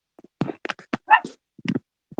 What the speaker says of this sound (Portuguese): Não liga não que o meu cachorro tá latindo